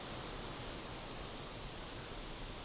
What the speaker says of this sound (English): as you can probably hear, the breeze has picked up a fair bit